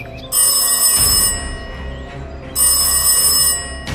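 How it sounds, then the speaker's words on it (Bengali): A telephone bell rings loudly in two long bursts separated by a short pause, close and clear with no voices. "ঠিক সেই মুহূর্তে হঠাৎ রাকেশের ফোন কেঁপে ওঠে"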